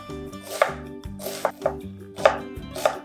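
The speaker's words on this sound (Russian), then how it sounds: "мелко нарезаю одну крупную луковицу" A kitchen knife finely chops a large onion on a cutting board, making a brisk series of crisp, close taps in an uneven rhythm over soft background music, with no talking.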